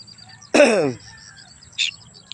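One loud, harsh bird call bursts out up close and fades over half a second, followed later by a brief, fainter chirp against a quiet outdoor background.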